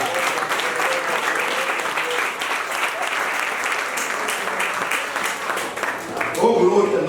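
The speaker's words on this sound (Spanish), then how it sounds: "¿Cuánto le da un aplauso grande al Señor?" A church congregation claps loudly for the Lord during a sermon, a dense steady roar of hands lasting several seconds, with voices rising near the end as it fades.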